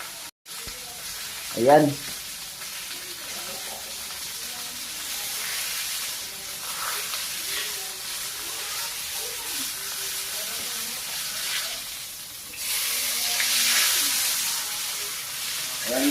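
Fish pan-grilling in a frying pan sizzles and hisses steadily, swelling louder as it is flipped, with someone speaking briefly over the frying.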